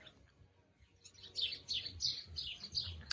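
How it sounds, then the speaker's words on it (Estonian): Birds chirp and tweet in quick overlapping bursts outdoors in Spain in winter sunshine, starting after a quiet second, with a low rumble underneath. "Linnud laulavad ja kõike võistab"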